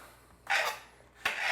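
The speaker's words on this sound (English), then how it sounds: "next we'll cut up the zucchini and the squash, basically the exact same way. So just start chopping it out." A knife chops zucchini and squash on a board: two bursts of scraping, rasping cuts, the first longer and the second starting sharply, close and moderately loud with no talking.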